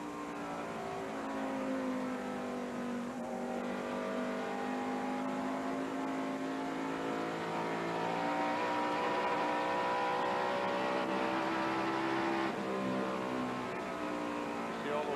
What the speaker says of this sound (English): Let's take another lap with Dick Trickle. Phillips 66 in-car camera